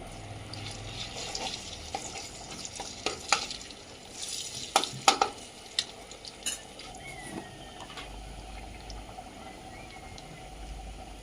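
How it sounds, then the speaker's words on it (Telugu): Ginger fries in hot oil with a soft, continuous sizzle, broken by occasional stirring scrapes and clinks from a utensil; close but quiet, with no talking. "ఈ ఆయిల్లోనే అల్లం వేసుకుంటున్నా."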